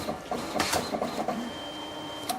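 A Mitsubishi Easy Photo K60 dye-sub printer feeding out a 6x4 photo print, a close mechanical whirr with short bursts and clicks, steady and fairly loud, no voices.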